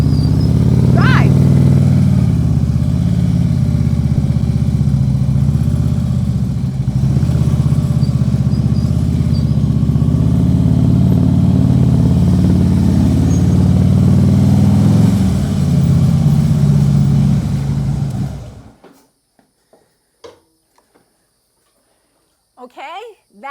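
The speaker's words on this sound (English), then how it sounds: "I'm going to bring the throttle up into preload, and then I'm going to" A motorcycle engine idles and then throttles up into preload on a slight incline before pulling away slowly, a loud steady close rumble lasting most of the clip before cutting off abruptly into near silence.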